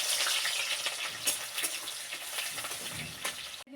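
Chopped onion sizzles and crackles in hot oil in a pan, a steady dense frying hiss with occasional stirring pops, close and continuous with no talk.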